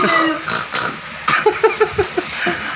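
A child imitates a pig's oink with a quick run of six or seven short, snorting grunts, close and fairly loud, after some brief talk.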